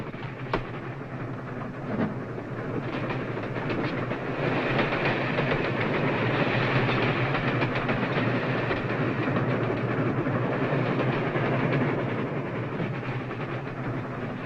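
A steady, loud rumble of a train rolling along rails, with continuous clattering and rattling throughout, no voices.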